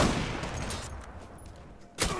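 Gunfire in the online shooter Zula: a dense, steady burst of rapid shots carries through the first two seconds, easing off briefly before a final sharp shot rings out near the end.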